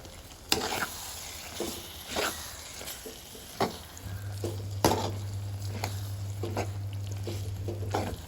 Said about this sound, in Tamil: இப்பொழுது நாங்கள் ஒரு மேசக்கரண்டி சீனியை எல்லா பக்கமும் நன்கு தூவி கிளறுதல் வேண்டும்